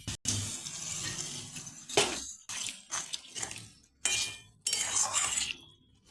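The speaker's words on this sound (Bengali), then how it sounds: "এখন আমি জল দিয়ে দেবো পরিমাণ মতন" Water poured into a pan of potato and prawn curry: splashing, gushing bursts with a few metallic clinks from utensils, close and fairly loud, with short pauses between pours.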